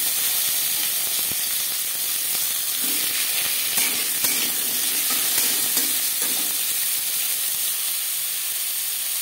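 Green mango pieces fry in refined oil with panch phoron, giving a loud, continuous close-up hiss and sizzle with a few faint stirring knocks and no voices.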